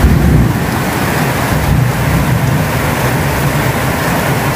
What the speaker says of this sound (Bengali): পুরো বাতাস হইতেছে